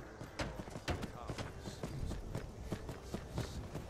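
Hooves pound in the video game Skyrim as a horse runs, a fast, uneven drumming of close thuds that carries on throughout, with people talking over it.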